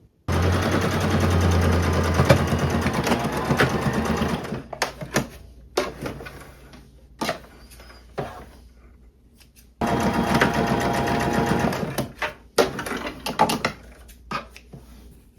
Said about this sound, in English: And now I can sew right along this line.